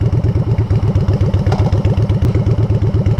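Motorcycle engine on the way to a motorcycle shop, a steady rhythmic low-pitched thumping pulse, loud and close, with a few faint clicks and no talking.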